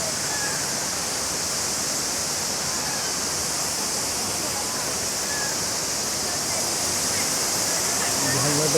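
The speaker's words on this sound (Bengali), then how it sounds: "আর পেছনে যে ঝর্ণাটা দেখতে পাচ্ছেন এটা অনেক আর্টিফিশিয়াল ঝর্ণা" Artificial waterfall at the Gulong Canyon glass bridge in Guangzhou, China, a constant loud rushing roar of falling water, broad and steady with no breaks.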